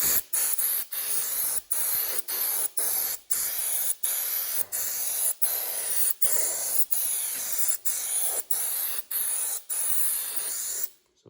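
Compressed air blows debris out of a Buddy heater burner in about a dozen short, loud hissing bursts at a steady rhythm, with brief gaps between them, close up and alone.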